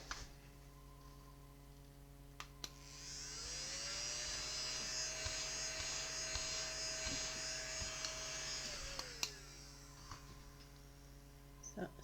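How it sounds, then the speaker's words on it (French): A small vacuum cleaner sucks excess glitter off a resin cat keychain, a steady whining motor hum rising from about three seconds, holding for some six seconds, then winding down, close by, with light taps and a constant background hum. "Alors, ouais, mon aspirateur."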